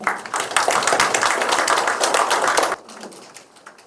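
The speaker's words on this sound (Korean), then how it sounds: "오늘 마지막 6개 권역별 지역 서울 토론회를 동지 여러분들의 힘찬 박수로 시작하도록 하겠습니다" Audience applause opening a regional forum on social solidarity held in Seoul, dense rapid clapping from a large crowd filling the room, then cutting off sharply to quiet room tone.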